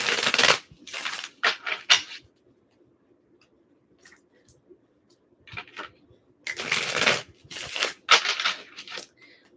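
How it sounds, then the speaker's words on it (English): Tarot cards being shuffled in short papery riffling bursts, a cluster at the start and another toward the end, with quiet gaps between and a soft hum underneath. "One more shuffle."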